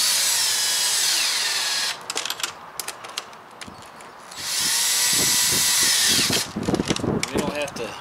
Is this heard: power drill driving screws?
yes